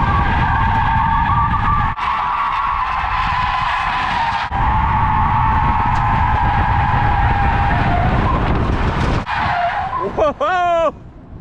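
A Tesla-swapped Chevrolet C10 truck with a Quaife limited-slip differential does a loud, sustained burnout with continuous tire squeal and skidding close by. Brief breaks cut the squeal, and a wavering chirp follows near the end.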